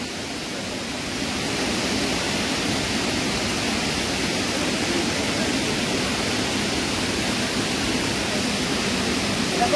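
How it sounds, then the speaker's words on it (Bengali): Bamni Falls waterfall on Ayodhya hill in Purulia roars as a steady, dense broadband rush, swelling slightly after the first second and holding loud and unbroken throughout. "ঝর্ণা, এই সেই ঝর্ণা বামনি ফল"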